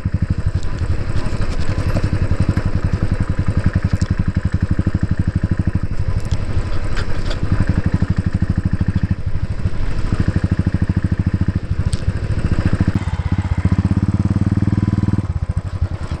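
Motorcycle engine on an off-road ride, a steady close throbbing thrum with rattly clatter, holding a constant pace and swelling slightly near the end.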